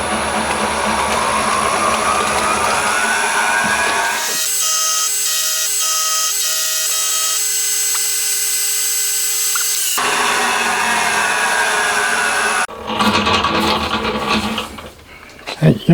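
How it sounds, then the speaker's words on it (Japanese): A milling cutter takes facing passes across a cast cylinder head for a 125cc four-cylinder, 16-valve engine, giving loud, steady high-pitched machining whine with abrupt changes in tone and a grinding, scraping stretch near the end. "そしたら反対側削って 20mm ジャストにしていきます"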